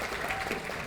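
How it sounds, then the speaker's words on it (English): An audience at an alumni hall of fame induction ceremony applauds, a brief dense wash of clapping from a crowd indoors, close and fairly loud. "how about a round of applause?"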